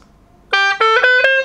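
Vietnamese gourd flute (sáo bầu) played without drone pipes, a brief reedy phrase of three or four notes, clear and solo.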